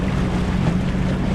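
A Sea-Doo personal watercraft idles on open water, a low steady engine burble mixed with wind and water noise during a brief, continuous moment.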